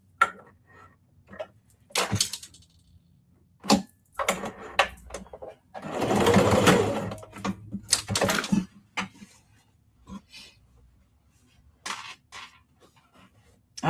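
A sewing machine stitches the seams of a denim tote bag in short bursts, including one longer run in the middle, set between quiet gaps and small handling clicks and taps.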